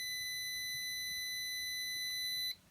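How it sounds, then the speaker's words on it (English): Ultrasonic sensor alarm circuit with a buzzer giving a steady, high, continuous electronic tone for about two and a half seconds, then cutting off abruptly; close and alone. "the buzzer will sound as soon as my hand is with less than 2 inches from the sensor"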